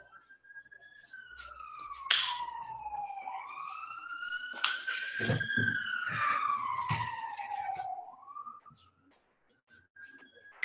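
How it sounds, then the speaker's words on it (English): A wailing siren rises and falls in pitch over several seconds, loud and sustained, with brief clatter mixed in before it fades near the end. "Were those the warning sirens?"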